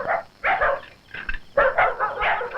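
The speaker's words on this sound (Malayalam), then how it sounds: "പോറ പട്ടി അവിടുന്ന്" A dog barks in a series of rough, uneven bursts, some close together, nearby and moderately loud, with short pauses between volleys.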